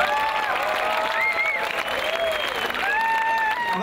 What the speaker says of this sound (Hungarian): Elsősorban a Művészetek Háza munkatársainak kérek egy nagy tapsot!